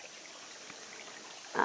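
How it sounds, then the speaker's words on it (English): A shallow creek flows through a rhododendron area, giving a steady, soft hiss of moving water that stays even throughout, with a brief louder splash or rustle at the very end. "Along this actually really peaceful creek."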